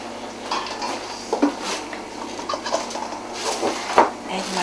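A metal baking tray is set down in a kitchen during a Hungarian cooking demonstration, giving a couple of light clanks and scrapes amid quiet room noise.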